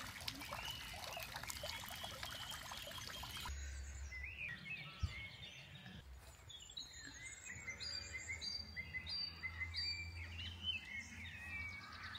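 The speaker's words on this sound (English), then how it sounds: "especially with the fountain in front of you and you can hear the water tinkling" Fountain water trickling and tinkling beside Ullswater lake at Waterfoot Park, a faint steady splash joined by chirping birds in the quiet outdoor air.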